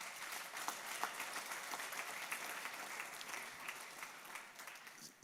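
Sustained applause from a congress audience at a conference hall in Lausanne, steady dense clapping throughout at moderate level with no speech over it.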